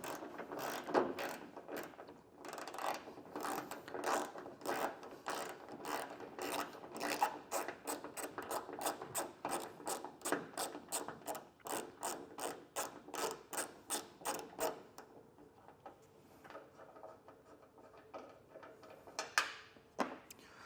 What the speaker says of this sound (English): we'll grab a 12mm socket, and I'm going to loosen up our first bolt and get that removed